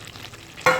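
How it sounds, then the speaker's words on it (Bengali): Fried jackfruit and potato pieces drop into a pan of frying masala, a soft stirring scrape giving way to a sudden loud sizzle that holds steady after the addition. "দেখো এরপর কিন্তু ভেজে রাখা এঁচোড় আর আলু এর মধ্যে দিয়ে দিচ্ছি।"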